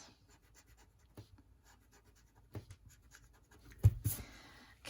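Eraser rubbing over pencil path lines on a paper drawing, soft scratchy strokes in short bursts with a couple of louder scrubs near the end, quiet and close with no talking.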